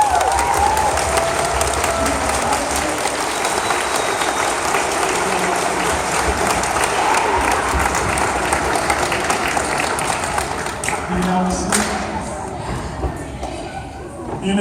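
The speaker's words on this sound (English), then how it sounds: "Can we give them both a big round of applause?" A high school audience gives a long, loud round of applause mixed with cheers and whoops, the clapping steady and crowded before tapering off toward the close.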